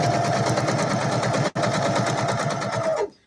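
Small, basic sewing machine capable of thirteen stitch types running in a steady, fast mechanical chatter, close and loud, with a brief stop midway before resuming and then halting.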